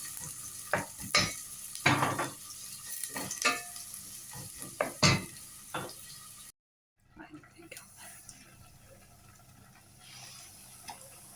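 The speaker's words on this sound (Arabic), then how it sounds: "هسه نبدأ نقلي. هاي نسوي شوربة، نحضر الشوربة، نبدأ نقلي الستيك." A beef steak fries in a pan with a crackling sizzle punctuated by scrapes and clatters of stirring, cut off by a brief pause before the quieter frying resumes.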